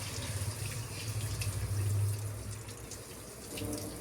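Tap water runs steadily into a sink while a fish tank is washed, a continuous close splashing flow with no voices.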